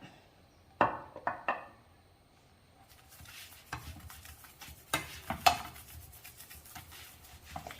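A beetroot chapati flipped on a pan with oil, a few sharp scraping and tapping knocks of the spatula followed by a soft steady sizzle, close and with no voices.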